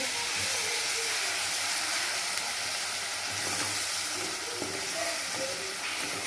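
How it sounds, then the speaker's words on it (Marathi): Palak paneer masala paste frying with garlic in oil gives a steady, dense sizzle and hiss throughout, with occasional spoon stirs underneath; close and continuous. "ती पण छान लसणासोबत आपल्याला फ्राय करून घ्यायची एक मिनिटभर फक्त"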